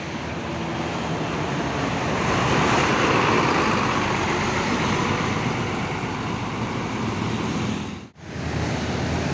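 A Luragung Termuda bus departs from a terminal toward Baranangsiang in Bogor: a loud, broad engine roar that swells and holds steady, then cuts out briefly near the end before resuming, with no talking.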